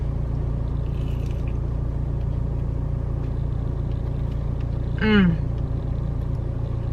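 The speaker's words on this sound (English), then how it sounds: "There's a car pulling up right next to me." A car pulls up right beside the listener, a steady low engine rumble that holds throughout, broken by one brief squeal near the end.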